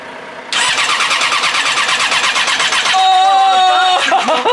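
A race bike engine converted from a road bike cranks on a weak battery, a rapid, loud, steady churning of the starter for about four seconds without catching, with a tonal whine rising in the later part.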